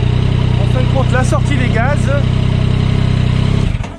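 A 2022 Yamaha MT-09 motorcycle idles with its exhaust exiting centrally beneath the bike, giving a steady, close low rumble that holds evenly before cutting off near the end, with someone talking over it.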